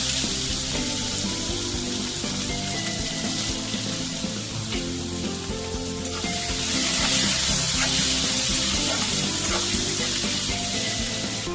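Chopped onion fries loudly in hot oil with whole garam masala (cardamom, cinnamon, cloves) and bay leaves, a dense steady sizzle that swells in the second half, close and without talk.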